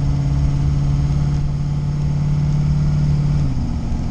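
Loud, steady drone of an LS 5.3 V8 swapped into a Fox-body Mustang pulling in first gear, a strong low engine note holding even before the pitch drops near the end as the throttle eases.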